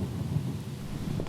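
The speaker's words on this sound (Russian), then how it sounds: "С неба падает мокрый дождь." Steady rain falling with a low rumble of thunder underneath, a continuous dense wash with no voices.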